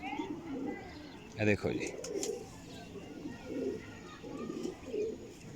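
Pigeons in a breeder's loft coo softly and repeatedly in the background while someone talks over them, with a brief louder flutter near the start.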